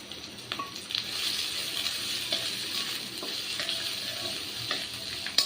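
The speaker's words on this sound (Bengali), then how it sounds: "আর দিয়ে দিচ্ছি কাঁচামরিচ এখন একটু নেড়ে চেড়ে দিচ্ছি" Chopped onions and green chillies fry in hot oil in a pan, a steady soft sizzle under repeated scraping stir strokes and light clinks of the spoon.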